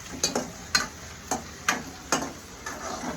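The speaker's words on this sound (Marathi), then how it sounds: "टोमॅटो पण छान हलवून घेऊया." Tomatoes being stirred in a pan while making masale bhaat, with a spoon tapping and scraping in a loose rhythm of about seven short clicks against a faint sizzle.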